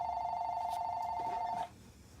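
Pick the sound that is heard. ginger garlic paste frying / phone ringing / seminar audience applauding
phone ringing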